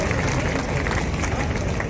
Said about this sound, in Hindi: एक बार जोरदार तालियों के साथ उनका स्वागत करेंगे।